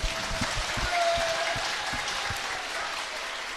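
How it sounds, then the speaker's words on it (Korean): Applause for reporters at a Korean press event, a dense wash of clapping held steady at moderate loudness through the short stretch, with a faint tone briefly audible above it. "내가 기자님들에게 박수 한번 쳐드리겠습니다."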